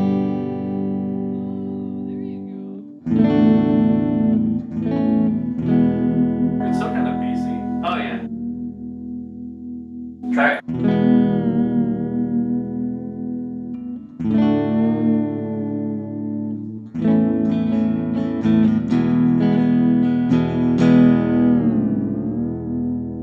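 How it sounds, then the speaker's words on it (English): An electric guitar with a humbucker pickup plays through a Fender Frontman amp with a little reverb, in sustained, distorted chords and riffs that ring out, with short pauses between loud phrases. "I'm just gonna give it a little bit of reverb."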